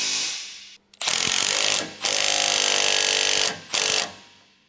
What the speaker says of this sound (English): Use an 18mm deep socket with an impact wrench and an 18mm wrench to tighten the upper mounting nuts.